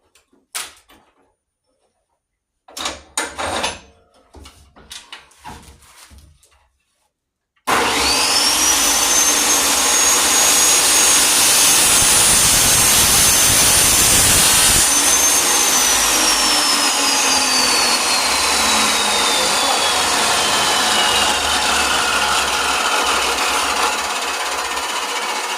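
A chop saw cuts an inch off a threaded fastener rod for a concrete footer: a few brief knocks and handling clatter, then a loud sustained grinding whine as the blade spins up and bites into the metal.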